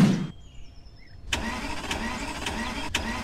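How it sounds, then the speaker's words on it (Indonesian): A car engine in an animated cartoon cranks and catches, then settles into a steady mid-pitched idle with faint periodic pulses, heard close and alone after a short quiet gap. "Biar aku panasin mobilnya dulu ya"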